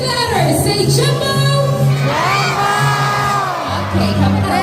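A crowd of spectators shouts and cheers in unison, calling a bird named Jumbo at a bird show at Cebu Safari and Adventure Park; loud, sustained group yelling with a few voices rising above.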